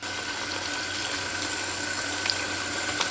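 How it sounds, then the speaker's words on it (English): Cold tap water runs steadily over salad leaves being washed in a kitchen sink. The stream holds an even, close rushing hiss, with a few faint splashes and no talking. "Just gonna give a wash to the salad."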